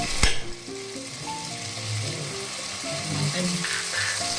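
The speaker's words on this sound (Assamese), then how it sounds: "বিলাহীখিনিও আমি এতিয়া কোমল হৈ যোৱালৈকে ভাজিম" Tomatoes frying in hot oil in a pan, added over onions for a palak paneer, giving a steady close sizzle with faint stirring and music underneath.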